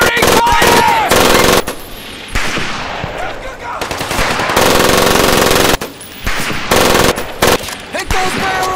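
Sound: covering gunfire in Medal of Honor Pacific Assault video game

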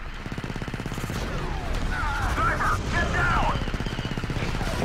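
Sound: clone machine gun firing in Star Wars Battlefront 2 video game

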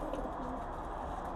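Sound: pigeons cooing in loft

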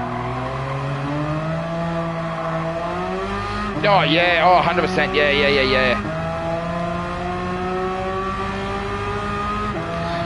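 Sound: Porsche 911 GT2 RS engine in video game Gran Turismo 7

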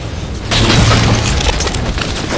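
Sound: plasma grenade explosion in Halo video game

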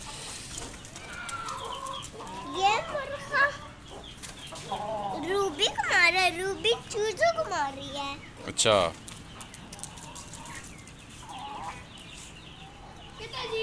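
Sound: chickens clucking

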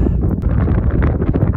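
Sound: wind

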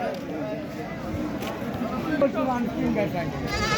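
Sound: goats bleating at a goat market

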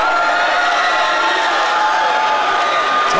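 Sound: crowd cheering

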